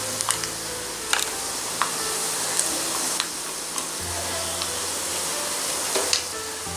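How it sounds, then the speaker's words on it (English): Anchovies (nethili) fry in hot oil with a steady, broad sizzle and a low background hum, broken by a few sharp crackles and pops scattered throughout. "Fry on both sides."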